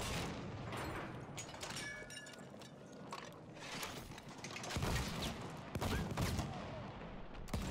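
Gunfire in a World War One video game crackles in rapid, irregular bursts, with sharp shots and louder booms scattered through a dense, continuous barrage.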